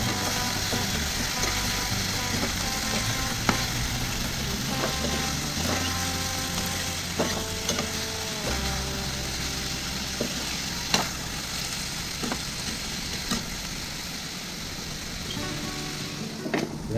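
Pieces of stingray fry in a hot pan as adobo cooks, a steady close sizzle with occasional clinks and scrapes of a utensil stirring against the pan.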